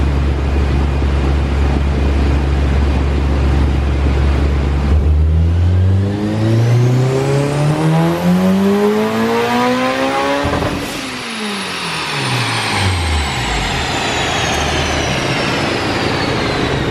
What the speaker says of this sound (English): Just trying to clean that up before we do a full throttle pass and fall off and do 3rd gear runs to keep the load down